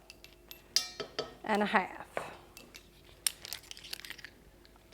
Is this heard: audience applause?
no